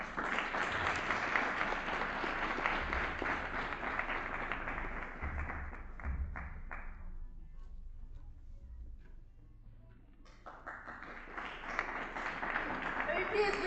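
Sustained applause from the audience at a school award ceremony, a dense steady wash of clapping that thins and fades out midway, then swells again near the end.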